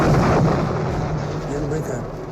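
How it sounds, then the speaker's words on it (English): Heavy, continuous roar of rocket fire and explosions from Typhoon fighter-bombers striking ground targets in a wartime tank battle, dense and booming without pause, with a narrator's voice partly over it. "then he lets go his rockets"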